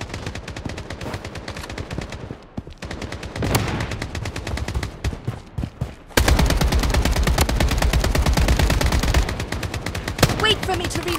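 Rapid automatic gunfire from an AK-47 in the Blood Strike shooter game, with dense bursts that briefly pause and then return louder and more sustained, close and continuous.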